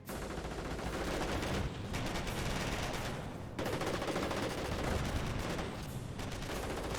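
Sustained WWII battlefield gunfire from Company of Heroes 1: dense, rapid machine-gun and rifle bursts rattle nearly nonstop at steady loudness, with no voices.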